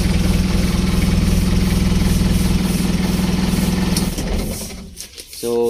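Car engine idling on a reconditioned battery after starting, a steady low rumbling idle that runs evenly for several seconds, then cuts off with a brief clatter near the end.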